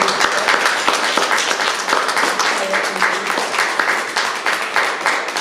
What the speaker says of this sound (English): please can we give a round of applause to Sept